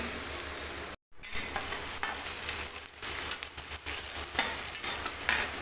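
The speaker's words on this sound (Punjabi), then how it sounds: "ਫੇਰ ਪਾਵਾਂਗੇ ਇਹਦੇ ਵਿੱਚ ਸੇਮ ਦੀਆਂ ਫਲੀਆਂ ਜਿਹੜੀਆਂ ਕੱਟੀਆਂ ਹੋਈਆਂ" Chopped flat bean pods hit hot oil with cumin and spices in a pan, giving a loud steady sizzle and frying hiss with scraping stirs, broken once by a brief silence.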